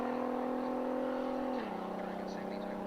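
A drag race car on a nitrous quarter-mile run gives a steady, droning engine whine that drops in pitch about halfway through, heard fairly faint and alone.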